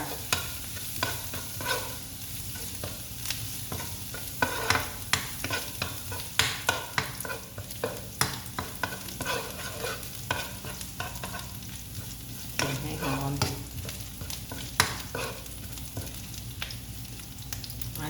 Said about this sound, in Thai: เจียวกระเทียมให้หอมนะคะท่านผู้ชมค่ะ